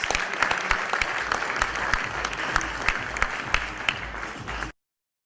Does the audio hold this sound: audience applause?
yes